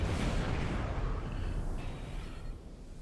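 Ship explosion in the space game Star Trek Online, a loud broadband rumbling boom that fills the whole clip and slowly fades toward the end.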